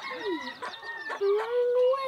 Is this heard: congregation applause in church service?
no